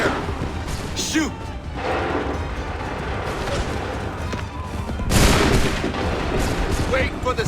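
Musket volleys crack out in Assassin's Creed III Remastered as a line of soldiers fires on command, with booming bursts around the first and fifth seconds over steady battle din, and shouted orders mixed in.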